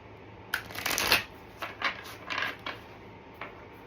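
Tarot cards being shuffled close by, a long riffling burst followed by several shorter flicks and slides, crisp and moderately loud with no talk.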